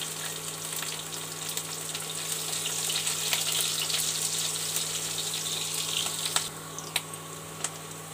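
Garlic and green chili frying in oil give a steady, bright sizzle that holds evenly throughout, with a few sharp pops and crackles near the end; no one speaks.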